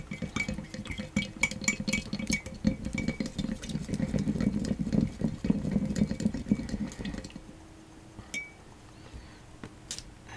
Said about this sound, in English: Give it a stir. Give it a good old stir.